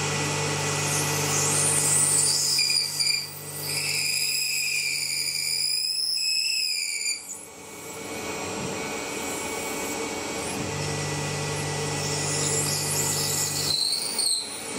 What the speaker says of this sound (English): deep drill, form drill right deep inside the part